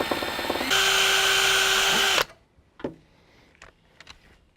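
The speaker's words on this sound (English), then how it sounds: "I'll start out making a small pilot hole" A power drill bores a small pilot hole while fitting an off-road hood strut, a steady high whine lasting about two seconds, then spinning down, followed by a few light clicks and taps close by.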